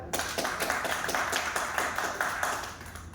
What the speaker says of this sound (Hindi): उसके लिए तालियां एक बार हो जाए